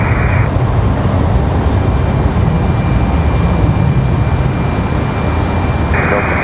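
A Delta Boeing 757 takes off from Raleigh-Durham, its jet engines a loud, steady broadband roar with a continuous high whine, heard alone without talk.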